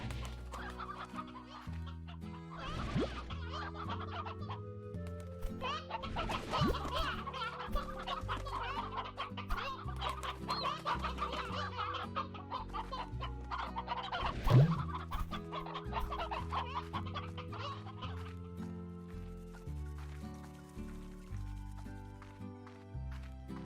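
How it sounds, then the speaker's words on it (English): Chickens cluck continuously in Slime Rancher, busy overlapping clucks and squawks over a layered music bed, with a brief louder burst midway. "I'm stealing some chickens."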